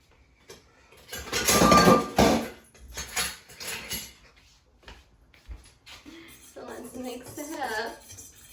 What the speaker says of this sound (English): Mix that up together. You can get a fork really quick.